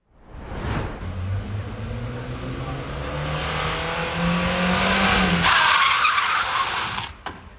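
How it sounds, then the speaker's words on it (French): A car driven at 50 km/h on a slippery road during a road-safety crash demonstration skids with a long, loud tire squeal and engine drone, ending in a sharper noisy burst before cutting off. "Une chaussée glissante, une voiture lancée à 50 km/h et un drame est vite arrivé."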